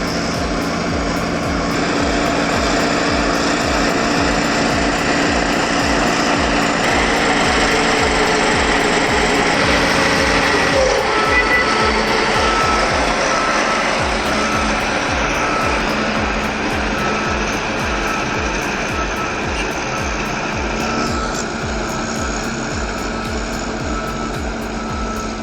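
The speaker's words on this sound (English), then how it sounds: "The high-tech D7R2 and the battle-hardened T170, one modern beast, one Soviet-era legend, working in perfect sync" A modern D7R2 bulldozer and a Soviet-era T170 crawler bulldozer working together, their diesel engines droning steadily with a rapid rhythmic clatter of tracks, loud and continuous for the whole stretch.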